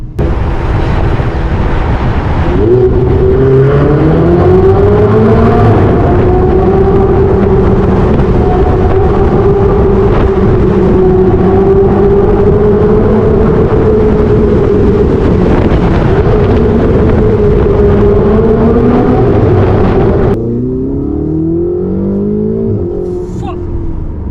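Ferrari 488 with turbocharged engine accelerating through a tunnel, a loud sustained rising engine drone with shifting pitch and heavy wind rush, dropping abruptly near the end as the car settles.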